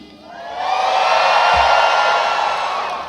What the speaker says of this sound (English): I'm going to encourage you to clap